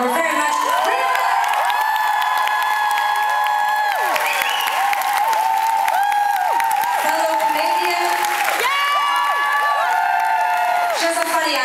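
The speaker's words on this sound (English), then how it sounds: "giving the hugest round of applause for the first act who came out tonight" A concert crowd at the O2 Institute in Birmingham applauds and cheers for the opening support act. Sustained clapping and whoops run beneath loud held musical tones throughout.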